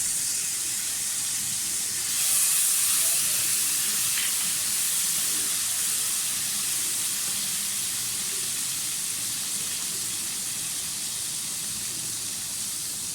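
Garlic tossed into hot oil with already fried cumin seeds, making a steady, close sizzling hiss that swells briefly when it hits the pan and then holds evenly with no voices.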